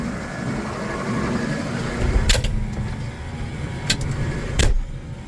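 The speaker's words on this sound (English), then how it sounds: "that fan is still making all kinds of friggin' noise" A rough, steady mechanical whirring from the fan of a Kuhn ProPush 2044 spreader drones continuously, with a few sharp clicks and clunks breaking through near the end.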